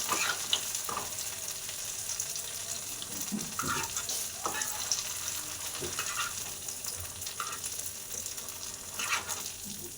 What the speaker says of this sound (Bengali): ডালের বড়ার জন্য এই যে ভাজবো